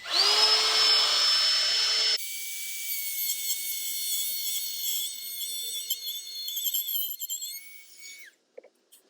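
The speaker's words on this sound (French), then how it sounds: "on pouvait utiliser le guide parallèle pour faire une rainure bien droite, bien parallèle au bord de la planche" A cordless Ryobi One+ R18TR trim router cutting a groove along a board with a parallel guide: a loud, high whining motor that drops in pitch as the bit bites into the wood, then cuts off and spins down.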